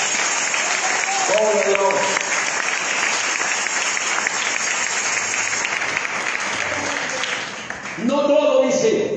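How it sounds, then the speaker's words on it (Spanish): Congregation applauding in a church service, a sustained wash of clapping from many hands with a voice calling out briefly at the start and again near the end over the applause. "Dejo un aplauso al Señor"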